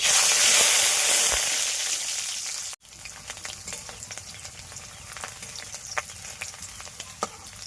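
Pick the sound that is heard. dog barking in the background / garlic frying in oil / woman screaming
garlic frying in oil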